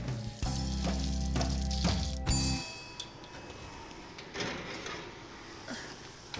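Meat and garlic frying in a pan, heard first behind a loud, droning mechanical whir with clicks that cuts off after about two seconds, then a steady close sizzle continuing alone.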